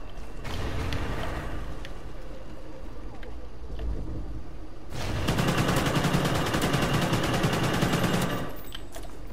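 Automatic gunfire rattles in the Call of Duty: Ghosts multiplayer game on a flooded map, a steady dense burst that grows louder and fuller halfway through, with a rumbling background and no clear pauses.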